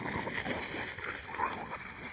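Several dogs out on a walk give off excited yips, short barks and whimpers, continuous and fairly close, with no talk over them.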